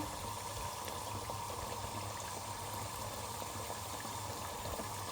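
Beignets of fried dough sizzling in hot oil just under 375 degrees, a steady dense bubbling hiss with scattered small pops, close and continuous throughout.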